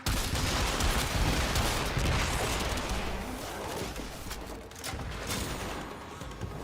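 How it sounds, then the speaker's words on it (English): Grenade launcher cannon fire in the video game Warframe gives a dense, continuous barrage of loud blasts and crackling explosions, sustained throughout with no pauses. "It's a grenade launcher. It's a cannon."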